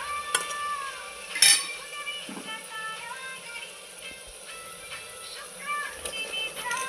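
Mutton being added to oil-rich cooked masala and stirred in a pan, with soft scraping of a spoon or spatula and faint sizzling, while a voice talks over it.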